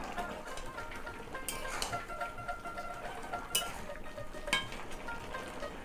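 Store-bought bori lentil dumplings going into a simmering pot and being stirred, with soft spoon clinks against the metal and a low bubbling hiss running underneath.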